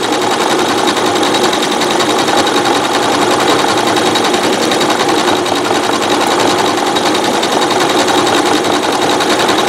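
A sewing machine runs nonstop at high speed, stitching a wide decorative stitch on a mosaic rope bowl, a loud, even mechanical whir with rapid ticking, no speech.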